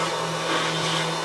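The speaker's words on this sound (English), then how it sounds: "This is the big dust collector Steve has right there" A big vacuum dust collector in a woodworking shop runs at full power, giving a loud, steady whooshing roar with a constant low hum that holds unchanged throughout.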